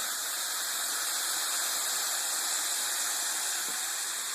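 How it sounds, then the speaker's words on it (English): Steady, dense hiss of food sizzling in a hot pan, continuous and fairly loud throughout with no voices. "Once you start to hear that sizzle like that"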